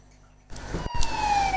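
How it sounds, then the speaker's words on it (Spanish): A police siren passing outside starts suddenly after a quiet moment and swells to a loud, drawn-out wail that slides gradually downward in pitch, heard from indoors with no talking. "estamos escuchando, está igual que yo, escuchando la sirena."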